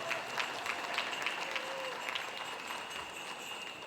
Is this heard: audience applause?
yes